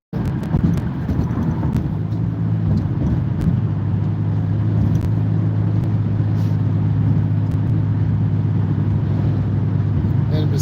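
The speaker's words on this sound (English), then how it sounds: "Whoa, I'm squeezing my brake now." A car driving along a road while the driver brakes, giving a steady, loud low rumble of engine and road noise throughout with no clear change in pitch.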